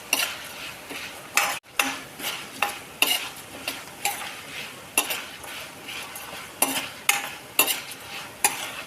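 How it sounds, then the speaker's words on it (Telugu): Whole spices fried over a medium flame until browning, for a drumstick leaf chili powder, heard as a close, regular series of spatula scrapes and clinks over a soft sizzle. "మంచి బ్రౌన్ కలర్ వచ్చే వరకు మనం మీడియం ఫ్లేమ్లో పెట్టుకొని చక్కగా వేయించుకుందాం."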